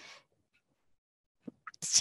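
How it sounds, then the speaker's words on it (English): A single sharp sneeze bursts out at the end after a brief intake of breath, close and loud against near silence. "I'm going to sneeze, excuse me"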